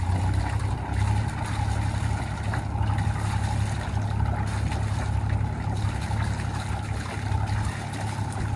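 A Yanmar 3YM30 marine diesel on a Sunrise 34 sailboat idles steadily, a continuous low rumble with the hiss of cooling water spitting out of the exhaust.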